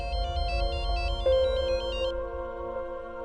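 A phone ringtone plays a repeating electronic melody, loud and close, then stops partway while a lower tone lingers.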